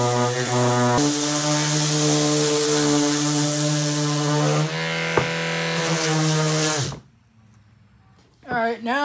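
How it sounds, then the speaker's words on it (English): A power sander drones loudly and steadily against a wooden dining table built from flooring, running with a strong hum for several seconds, briefly dipping mid-pass, then cutting off to near silence before a short burst starts again. "Now we're going to go ahead and sand everything again."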